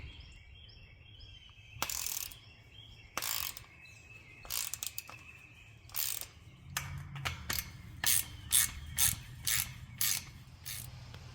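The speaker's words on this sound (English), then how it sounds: "We're going to go back through and tighten all of our hardware and just make sure everything is secure." A ratchet tightens hardware on chain link fence panels outdoors, giving repeated bursts of sharp clicking, some slow and spaced, others quicker and clustered. The bursts are close and loud, with birds chirping faintly in the background.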